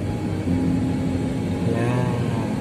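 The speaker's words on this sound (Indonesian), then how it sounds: "Gas lagi. Naik gigi." A manual car's engine pulls steadily under acceleration during a driving lesson, then its pitch drops briefly as it shifts up a gear, a close, continuous hum with no talking.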